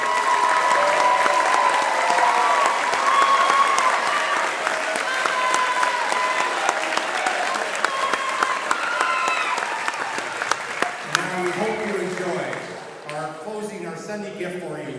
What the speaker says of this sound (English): could I have you take a moment and give a round of applause to your two amazing directors right up there